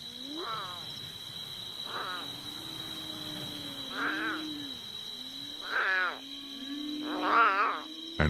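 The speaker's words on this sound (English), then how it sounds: "The plaintive cries of the abandoned lion cub echo through the night." An abandoned lion cub cries at night with five or six high, wavering mewling calls spaced a second or two apart, over a steady high insect drone in the wild.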